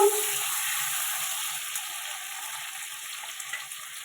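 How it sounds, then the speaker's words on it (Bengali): Chopped tomato drops into hot oil tempered with cumin seeds for a vegetarian paneer curry, setting off a steady, bright sizzle that holds close and even throughout, with faint stirring clicks and no voices. "এবার একটা টমেটো আমি কেটে রেখেছিলাম দিয়ে দেবো।"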